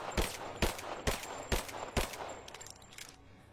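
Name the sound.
gunfire in a video game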